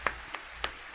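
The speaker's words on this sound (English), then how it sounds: "Definitely clapping for that." Four sharp hand claps, sparse and uneven, close and fairly quiet over a faint steady hum, no voices.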